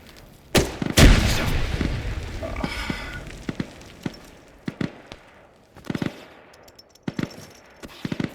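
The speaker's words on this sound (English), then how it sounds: "Somebody tossed a grenade in there" A grenade goes off during a training session, one heavy boom followed by scattered sharp gunshot cracks and bursts spread across several seconds, loud and close.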